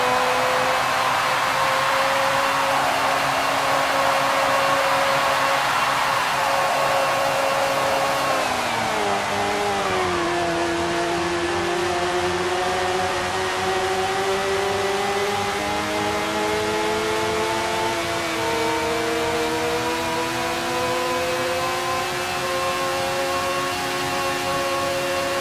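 Race cars at Emerson Fittipaldi Speedway give a sustained, loud, high-pitched engine whine. The pitch dips partway through, then climbs steadily again as the cars accelerate, and the sound continues without a break.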